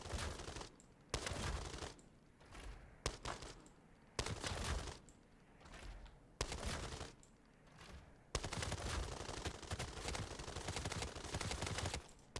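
Rapid bursts of gunfire from Desert Tech MDR and 416 rifles in the Arena Breakout Infinite shooter game, several loud automatic volleys separated by brief pauses, with a long sustained burst near the end and no talking.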